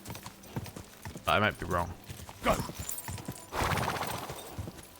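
Horse hooves clip-clop at a walking pace across open fields in Kingdom Come: Deliverance II, moderately close, mostly underneath someone talking throughout.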